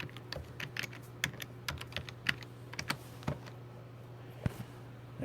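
Someone types a password on a computer keyboard at a command line; quiet, close key clicks come in short irregular bursts over a low steady hum.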